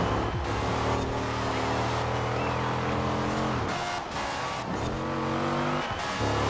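A car racing around a track in Forza Horizon 4, the engine note climbing through gears with shift breaks, then easing and revving again, loud and close with faint tire scrub.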